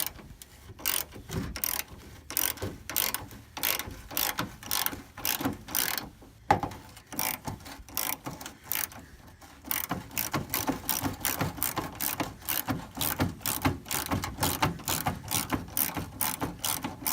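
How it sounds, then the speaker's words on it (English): Rapid, rhythmic clicking of a ratchet turning a 13 mm metric bolt on a 1989 Ford F150, close and crisp in steady bursts, with a short pause before the ratcheting resumes at a quicker pace. "This bolt appears to be metric, a 13 millimeter, so we'll get to taking it off"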